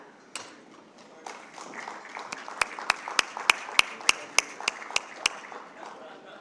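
An audience at a business and leadership conference claps for guests, a diffuse patter of applause with a run of sharp, evenly spaced loud claps near the mic in the middle.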